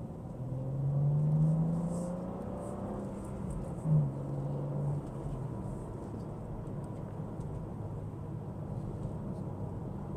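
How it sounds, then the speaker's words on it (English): A BMW M2 engine in sport mode hums steadily with a couple of brief revs rising in pitch, moderately close, with no talking. "the engine is definitely more of an aggressive sound too"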